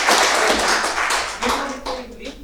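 A university session audience applauds, a broad burst of clapping that fades over a couple of seconds as a voice speaks over it.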